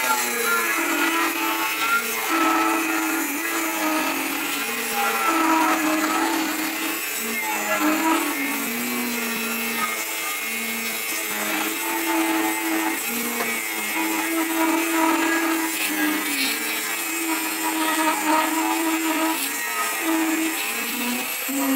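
An NRT Pro 9750 angle grinder cuts into 7 mm steel plate with a continuous loud whine and harsh grinding, its pitch dipping and recovering as the blade bites.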